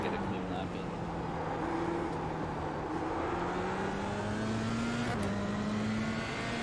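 Race car on cold tires runs a lap, a steady distant engine drone rising slowly in pitch with a gear change near the end, heard faintly under an in-car voice.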